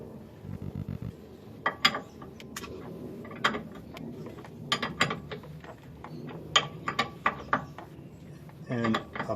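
Bolt being turned and threaded through a rubber bushing on the rear axle of a 1955 Cadillac Coupe Deville, giving scattered mechanical clicks and ratcheting knocks at close range, spaced irregularly and rising in bursts near the end.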